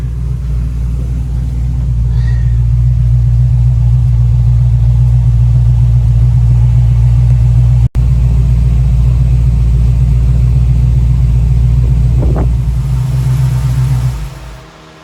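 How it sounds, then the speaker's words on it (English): A Chevy small-block 350 V8 runs with its cooling fan on, a loud, steady low rumble with a constant whirring layer and no talk, cutting out abruptly once and fading away at the very end. "Right, there's the fan on."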